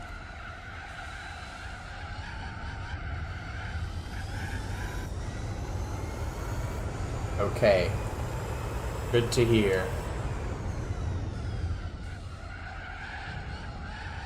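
A Suzuki Escudo race car in the video game Gran Turismo 4 drones with a steady engine note and its tires squeal and skid in a couple of louder bursts, while a person talks briefly over it.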